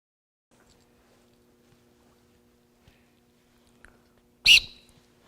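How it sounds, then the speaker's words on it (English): A single short, sharp dog recall whistle blast rings out loud after several seconds of near silence, with faint background noise before it. "that whistle carries a long way"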